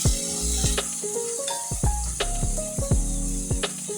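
A salmon fillet fries in a pan with a steady, close sizzle. Tonal background music plays under it.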